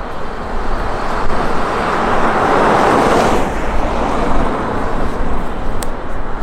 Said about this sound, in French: J'entends la voiture.